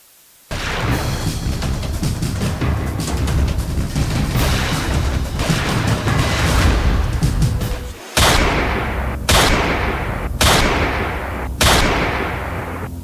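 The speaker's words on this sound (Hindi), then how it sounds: "ताबड़तोड़ फायरिंग की जो तस्वीरें आप अपनी टीवी स्क्रीन पर देख रहे हैं" Rapid gunfire in a gang shooting: a dense, loud stretch of continuous bursts, a brief break, then four separate sharp shots spaced about a second apart.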